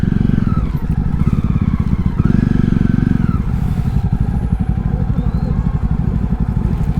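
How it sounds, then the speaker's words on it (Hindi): Motorcycle fitted with an Arrow aftermarket exhaust on a long ride from Kargil to Lucknow, a Jawa 42, rumbling loud and close with a steady deep pulsing exhaust note that swells briefly as it revs, with no talk over it. "तो भाई का एरो वाला एग्जॉस्ट बड़ा धांसू है।"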